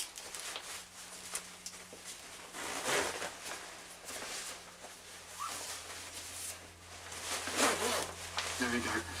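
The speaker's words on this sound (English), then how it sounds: "So now we'll do that zipper up." A zipper is drawn up on an improvised NBC protective suit, quiet rasping pulls at close range with rustling fabric and faint talk around them.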